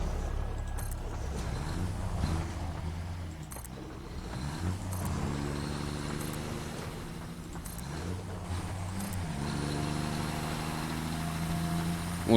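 A truck engine in the factory-building game Satisfactory, a quiet low idling rumble with faint shifting tones and sparse clicks of building placement running throughout.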